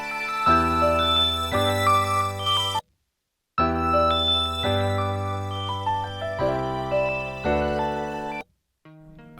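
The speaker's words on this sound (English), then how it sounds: "add a bell or an arp if you want" A bright bell-like synth plays a rhythmic arpeggiated melody over a steady beat, cutting out briefly twice before resuming.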